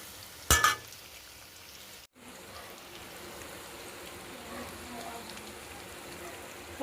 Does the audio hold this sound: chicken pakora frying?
yes